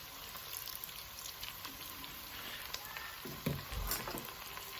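Turnip greens and pig tails in a pot being stirred, a soft wet stirring and bubbling over a steady low hiss, with a few louder scraping knocks near the end.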